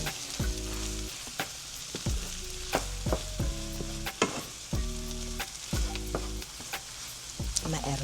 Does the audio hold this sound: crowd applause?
no